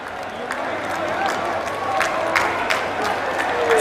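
Crowd applause and cheering welcoming the Prime Minister at a public event in Aligarh, a steady broad wash of clapping that holds throughout at moderate loudness with occasional sharper claps.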